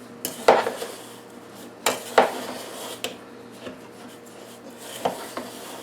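Nanaimo bar crust is mixed in a bowl, with intermittent scraping and knocking strokes of a utensil against the bowl in irregular bursts, fairly close and moderately quiet.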